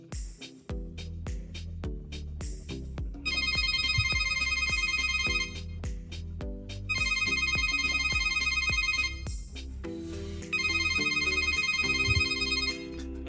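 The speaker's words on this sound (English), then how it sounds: "Let me just press the ring, and then you hear the sound very loudly." Samsung Galaxy SmartTag ringing loudly, a repeating electronic melody of bright beeping tones and bell-like chimes, played close and clear in several bursts with no talking.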